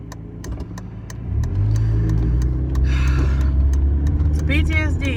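Car engine humming steadily while driving through city streets in New Haven, rising slightly as the car accelerates, with clicking sounds over it and some voice-like sounds.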